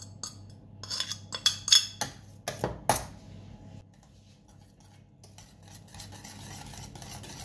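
Softened butter is worked into lemon curd just taken off the heat, with a cluster of close, brisk utensil scrapes and clinks against the bowl, then quieter, slower stirring. No speech.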